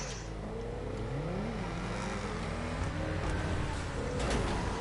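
A T20 sports car accelerates hard in GTA 5. Its engine roars loudly and continuously, the pitch climbing as it revs through the gears, with no voices.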